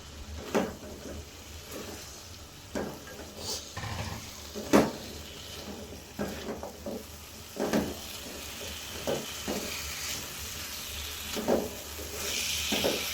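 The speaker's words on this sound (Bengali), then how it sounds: "মশলাটা পারফেক্টলি কষানো শেষ, কচুগুলো দিয়ে দিচ্ছি এখন" Taro roots go into a pan of sizzling spice paste, giving repeated sharp clatters and stirring scrapes over a steady frying hiss, loud and close.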